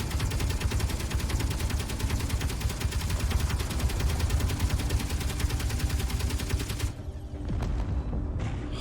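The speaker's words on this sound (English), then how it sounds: "it's the stinging adversary that's shooting" Sustained rapid gunfire from an enemy stinger in the space game Space Engineers, loud and dense for about seven seconds before briefly dropping away and resuming.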